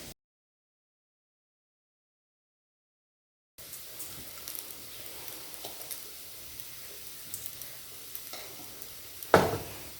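Sliced tapioca being stir-fried in a pan, with a soft steady sizzle and scraping from stirring after a silent opening and one louder clatter near the end.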